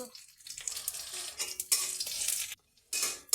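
Food sizzling in oil is stirred in a pan, with bursts of crackling frying and scraping strokes coming in uneven waves and a brief pause near the end.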